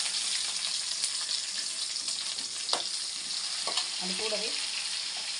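Onions sautéing in a hot pan give a steady broadband sizzle with occasional scrape and stir clatters; a brief voice speaks near the end over the frying.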